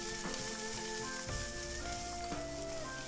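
Minced pork stir-frying in a thin layer of oil in a wok, giving a steady close sizzle with occasional scrapes of the spatula, with no one talking.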